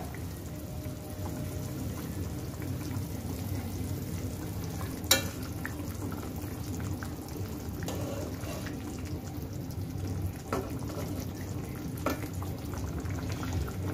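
A poma fish curry in oil and spices sizzles and simmers softly in the pan after cumin powder is added, a steady faint bubbling with a few sharp utensil clicks, and no voices.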